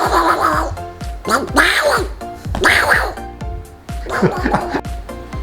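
A group of ducks at a holiday house quack in loud, close bursts, several rough nasal calls overlapping, while a man chatters alongside.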